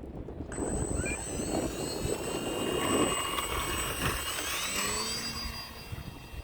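Buzzing electric propeller of an E-flite Valiant 1.3m radio-controlled plane taking off outdoors, a steady whine rising and shifting in pitch as it climbs away, moderately loud with no voices.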